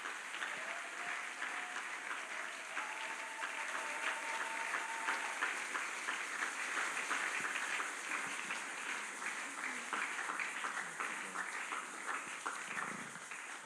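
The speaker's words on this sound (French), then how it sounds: "Et le peuple de Dieu acclame et dit Amen." A church congregation applauds and acclaims in steady, sustained clapping from a large crowd, heard at a moderate distance, with faint voices rising through the applause.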